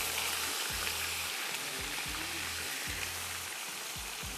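Onions and chicken sizzling in a pan for a vegetable and chicken pulao: a steady, close frying hiss runs throughout, with several low thumps as pieces shift or are stirred.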